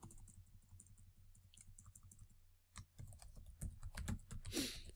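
Typing on a computer keyboard comes through as a faint, quick run of soft key clicks, turning into louder, heavier keystrokes toward the end.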